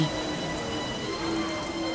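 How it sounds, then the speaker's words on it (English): Steady rain falls as a dense, continuous wash, a sound effect behind a fantasy audio story about a wizard summoning a wall of rain before dragons, heard alone without voices at an even, moderate level. "Suddenly, there's a wall of rain in front of the dragons."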